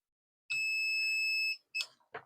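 A loud, steady electronic beep from a Xiaomi door/window sensor with a broken reed switch holds for about a second, followed by a couple of short clicks and rustles nearby.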